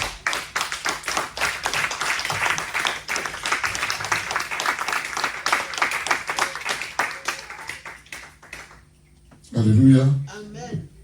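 A church congregation applauds and acclaims God, with steady rhythmic clapping for about eight seconds that fades out, followed by a short voiced cry of acclamation.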